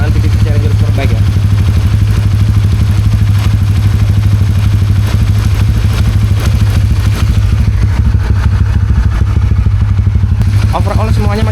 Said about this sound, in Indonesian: inilah hasil suara engine kita untuk penggunaan PTT Challenger Superbike ya